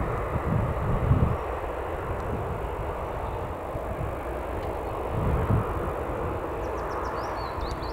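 Jet airliner near Newcastle Airport, a broad steady roar of engine noise heard from outdoors at a moderate distance, swelling slightly near the start and again later, with no voices.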